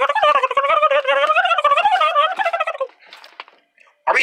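Several people imitate a turkey's gobble, a loud warbling vocal trill that runs nearly three seconds, fades into brief faint noises and ends on a short burst.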